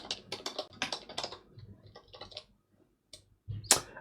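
A password is typed on a computer keyboard during an Ubuntu Server 18.04 login, producing quick bursts of close, crisp key clicks with short pauses and a final sharper press.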